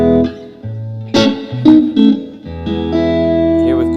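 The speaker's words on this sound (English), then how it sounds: "So here we've got the Squier Strat on the neck pickup." Clean electric guitar notes from a Squier Stratocaster on the neck pickup, played one after another, warm and rounded, ringing with sustained harmonics and a touch of effects, no voices.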